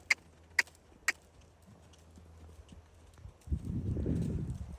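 A horse canters during a riding lesson, with three sharp, evenly spaced hoof clops up close, followed by a low rumbling thud of movement.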